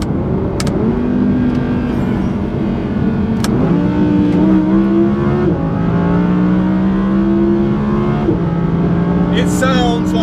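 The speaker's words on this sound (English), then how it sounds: "It sounds like a supercar. It goes like a supercar. It is a supercar." Rear-wheel-drive Audi R8 supercar with the 5.2 V10 from the Lamborghini Huracan, accelerating hard through the gears, its loud close engine note climbing and dropping at each shift, with brief speech over the roar.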